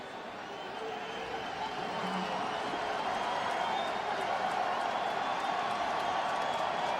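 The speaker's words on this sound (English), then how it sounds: "And this crowd trying to spur the defense" Stadium crowd at an NFL game, Miami Dolphins at Tennessee Titans in 2009, roaring steadily as a broad, sustained wash of cheering and noise that builds slightly and holds loud throughout.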